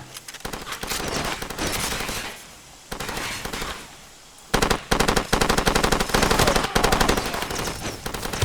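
Rapid bursts of automatic gunfire in the video game Far Cry 2, loud and close, in several sustained volleys separated by short pauses, with no talking.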